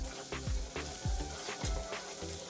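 Ginger garlic paste sizzling and frying with lightly browned onions in a pan, a steady loud crackle with repeated stirring scrapes every half second or so, close up with no talk.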